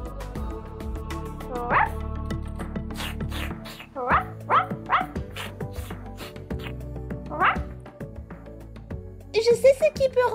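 A small dog in a Barbie doll play scene gives scattered yips and soft whimpers over background music, ending in a quick burst of higher-pitched barks.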